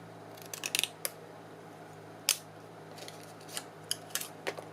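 Scissors snipping through a piece of card while working on a 1950s-style journal: a few close, crisp cuts in quick bursts, with pauses between them in a quiet room.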